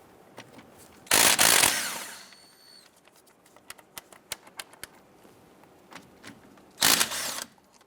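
Two 17mm brake caliper bolts loosened on a 1999-2004 Jeep Grand Cherokee with an impact or power tool, two loud whirring bursts separated by scattered metallic clicks and taps, close.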